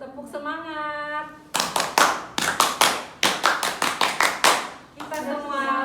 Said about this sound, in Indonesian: kita tepuk semangat dulu nih sebelum kita selesai ya